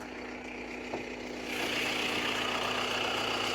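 An Audi A4 2.0 TDI Euro 6 diesel with 150 hp and 182,000 km idles steadily with a low, even hum, growing slightly louder and rougher partway through.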